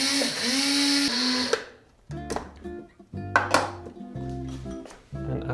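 A grinder whirs loudly as it grinds whole poppy seeds for poppy seed paste, then cuts off and is followed by clattering and knocking in a busy kitchen.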